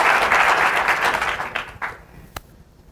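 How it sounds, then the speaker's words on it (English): An audience at a 2014 NAACP voting rights plenary session claps in a dense, loud burst of applause that thins out into scattered claps and fades after about two seconds. "No, how about clap your hands?"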